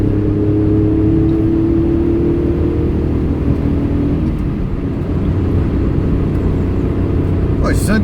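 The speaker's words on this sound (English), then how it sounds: "We'll go for a test drive to the tip." A Daewoo Matiz small car on a short drive, heard from inside the cabin: a steady, loud engine and road rumble that runs without a break the whole time.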